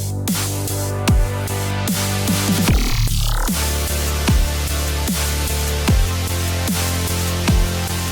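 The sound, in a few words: layered melodic dubstep bass fill samples in a song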